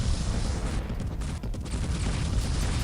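Point defense on a Klingon ship fires at incoming missiles in the space combat game Star Fleet Command, a dense rumbling barrage of rapid overlapping shots and booms that stays loud throughout with no speech.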